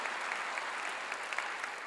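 A church congregation claps in praise to God, a dense, steady wash of applause from many hands, fairly distant and continuous throughout.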